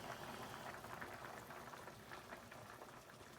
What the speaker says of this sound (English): After letting our gnocchi boil for 3 minutes, it's time that we reduce the heat and simmer it